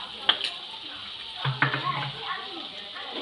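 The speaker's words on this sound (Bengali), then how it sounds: "এবার ভালো করে মশলাটা আমি কষিয়ে নেব।" Spice paste with turmeric and salt being sautéed with cauliflower in a pan for Bengali cauliflower chop, a soft sizzle and stirring scrape with a couple of sharp clinks, fairly quiet.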